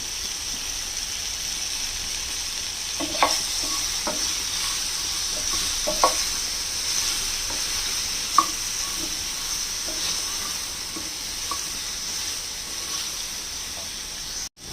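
Sliced hog plums lightly frying in a pan with a quarter teaspoon of turmeric powder: a steady, close sizzle broken by a few soft stirring scrapes and clicks, with no talking.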